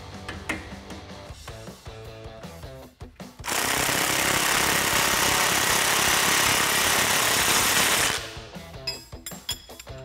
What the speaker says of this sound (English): I'm gonna tighten it up with a 19mm open-ended wrench on the top and then a 18mm socket here on the bottom.